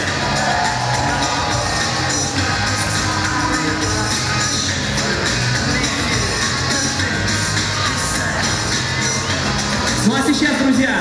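Audience at a guest fashion parade show at an expo cheers, whoops and claps in a loud, dense, continuous roar from start to end, with shouts rising above steady clapping.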